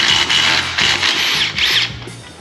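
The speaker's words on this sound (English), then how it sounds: "This is gonna be another job for our favorite 18mm socket." Three or four short, loud bursts from a power tool with an 18mm socket break loose and spin out a seat belt bolt on a 2016 Yamaha YXZ, whirring and rattling up close with brief pauses between.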